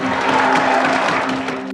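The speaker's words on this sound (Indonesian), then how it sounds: "Persidangan hari itu pun dicukupkan dengan tepuk tangan." A courtroom crowd in a film breaks into applause as the hearing ends, a brief, dense burst of many hands clapping over a low, steady hum, cut off abruptly at the end.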